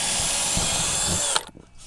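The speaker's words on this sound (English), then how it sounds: "I'm gonna go ahead and drill a hole right through" A power drill bores a hole through a board into the router table beneath, a loud, steady whine that stops abruptly after about a second and a half and winds down.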